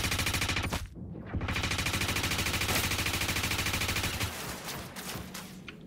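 Rapid automatic gunfire during a Star Citizen ship boarding fight, sustained close bursts with a brief pause near the start and a thinner tail toward the end.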